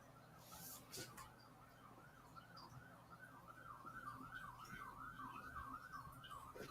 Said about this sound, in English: We're starting with the sirens this early.